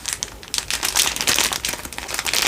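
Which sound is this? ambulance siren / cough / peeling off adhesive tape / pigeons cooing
peeling off adhesive tape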